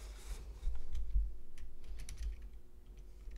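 A computer keyboard is typed on during spreadsheet work, a quick irregular run of light key clicks over a low steady hum, with no voices.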